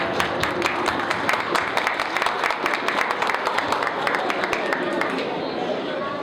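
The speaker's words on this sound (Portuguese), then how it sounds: "Então, mais uma batida de palmas, por favor." Applause from an audience at a press conference in a favela setting, a dense crackle of many hands clapping steadily throughout with crowd voices mixed in, fading slightly at the end.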